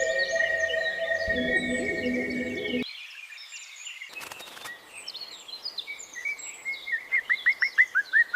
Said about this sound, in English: Opening its mouth wide in a desperate call for food.